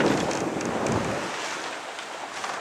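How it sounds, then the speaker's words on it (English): Steady wind rushing over the microphone aboard a Jeanneau sailing yacht in the Western Isles of Scotland, broad and continuous with a faint hiss, no talking. "Got the wind in my beam"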